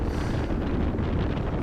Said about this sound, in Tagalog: Didinig nyo yung hangin na malakas.